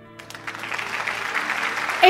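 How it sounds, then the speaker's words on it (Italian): Studio audience applause on an Italian television programme, rising quickly from quiet into a short, steady wash of clapping. "E qua scatta un applauso"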